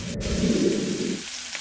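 Seasoned dry aged beef steak drops into a hot pan and sears with a dense, close crackling sizzle that fades after about a second.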